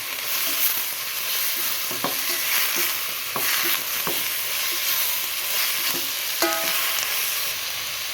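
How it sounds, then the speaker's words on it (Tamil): Green chillies, curry leaves and tomato fry for a Sri Lankan home-style biryani, giving a continuous sizzle broken by irregular spoon scrapes and knocks against the pot. "இப்போ சேர்த்துக்குவோம் நம்ம வெட்டி வச்ச பச்சை மிளகாய் கருவேப்பிலை தக்காளி இதெல்லாம் சேர்த்துக்குவோம் சேர்த்து சேர்த்துக்கிட்டு நல்லா கிளறி விடுங்க"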